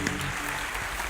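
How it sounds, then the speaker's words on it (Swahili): A church congregation at a revival service claps in a short, dense burst of applause that fills the room evenly from start to finish. "Wapigieni makofi mazuri."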